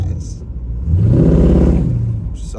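A 1969 Pontiac Firebird engine cranks and starts, settling into a loud, close rumbling idle with a deep low throb after the catch.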